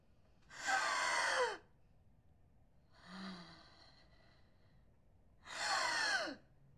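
Labored breathing of a dying woman, two loud, harsh drawn breaths separated by a fainter, shorter exhalation, close and isolated against a quiet background.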